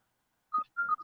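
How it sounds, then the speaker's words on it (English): A mobile phone goes off with two short electronic beeps, close and clear after a moment of silence. "apologies, that's my phone going on"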